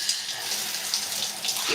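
Tap water streams steadily over hair being rinsed, a continuous bright splashing hiss that stays even in level throughout.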